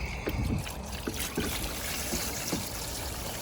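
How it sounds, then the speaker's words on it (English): Water pours and trickles steadily into a container of bone-dry potting mix that already has fertilizer in it, a soft close splashing that lasts throughout with faint clicks. "Now we're going to add the water."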